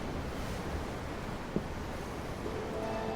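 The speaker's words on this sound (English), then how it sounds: "I'm looking at the ocean. The ocean? Yeah. The waves." Ocean waves in the video game Tales of Arise: a soft, steady wash of surf and wind noise, continuous and fairly faint, with a single small knock midway and no voices.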